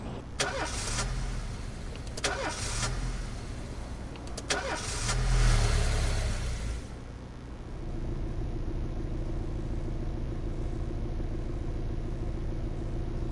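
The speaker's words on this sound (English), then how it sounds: "Sounds like you have the mighty fine jalopy there, my friend." Old jalopy car engine in a police video game: a rough engine start with bursts and revving in the first few seconds, then a steady low idle rumbling on alone.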